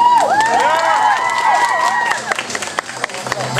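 An audience at a bookshop cosplay show cheers loudly, shrill voices rising together, then breaks into scattered clapping that tapers off.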